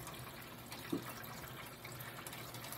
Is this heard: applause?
no